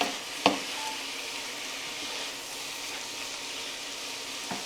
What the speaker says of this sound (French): On va laisser la viande saisir un petit peu